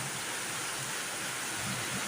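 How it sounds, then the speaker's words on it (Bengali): Heavy rain pours down steadily as a dense, even hiss of water on surfaces, with no distinct drops or thunder standing out, heard from indoors during a dark downpour. "খুব জোর বৃষ্টিটা এসেছে এই তো আর বৃষ্টির আওয়াজ কি ভীষণভাবে বৃষ্টি হচ্ছে"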